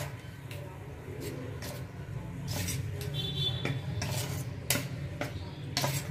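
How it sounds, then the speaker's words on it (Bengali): Thinned batter with a little water being stirred in a bowl, a spoon scraping and tapping against the sides in quick irregular strokes, close and moderately loud, with faint background noise. "আমি যে কিছুটা ব্যাটার আলাদা করে রেখেছিলাম তার মধ্যে অল্প জল দিয়ে একটু পাতলা করে নেব"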